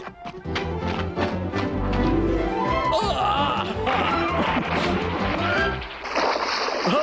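Water splashing and sloshing in a lake, heard close and fairly loud in irregular bursts, with voices over it in an animated setting.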